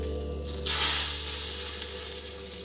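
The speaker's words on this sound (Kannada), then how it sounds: "ಇದು ಒಗ್ಗರಣೆನ ಈ ತವಿಗೆ ಹಾಕ್ತಾಯಿದ್ದೀನಿ" Hot tempering for a tamarind-shoot dal (chigaru pappu) poured into a small pan, a sharp hissing sizzle bursting up loudly, then settling into a steady crackling fry close by.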